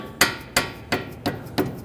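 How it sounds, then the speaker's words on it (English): A rubber mallet drives a front lower control arm bolt into place on a 2011–2023 Dodge Charger with five evenly spaced, dull thuds about a third of a second apart, close and fairly loud, with no speech. "We can use a rubber mallet."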